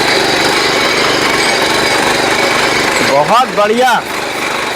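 A power tiller engine runs in first gear while ploughing dry soil, a loud steady rattling drone that continues throughout, with someone briefly speaking over it near the end.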